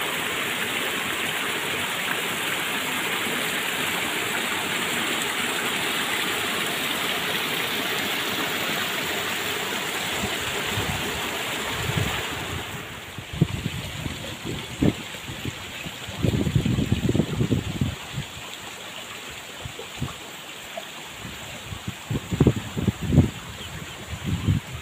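A swollen stream flows strongly through a village at the forest edge during the rainy season. Its steady rushing fills the first half, then drops back as intermittent low thumps and rustles break in.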